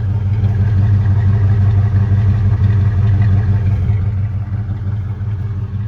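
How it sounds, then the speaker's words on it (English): A 1967 Oldsmobile Delta 88 with a low-compression 425 V8 idling, a loud, deep, steady rumble with a faint mechanical clatter, heard close and alone. "Listen to that beautiful 425 rumble."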